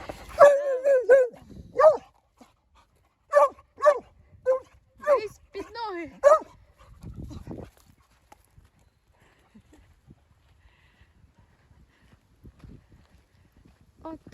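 A dog barks in a lively burst of several yaps during an outdoor walk, followed by quieter rustling and footsteps, with no speech over the barking.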